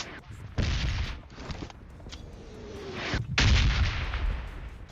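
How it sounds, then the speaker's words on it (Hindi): Gunfire rings out in the PUBG Mobile battle royale game, with several sharp bursts and dense crackling volleys that are loud at moments and more distant at others, while a voice talks briefly in between. "वो और जगह से फायरिंग हो रही है"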